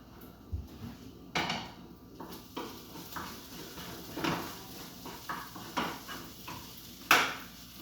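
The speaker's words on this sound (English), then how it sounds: "Give that a little stir." Food in a pot is stirred with a utensil, making a series of sharp clinks and knocks against the metal, roughly one every second. The taps are close and fairly faint, with no talking.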